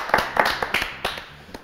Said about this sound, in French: On s'applaudit nous-mêmes?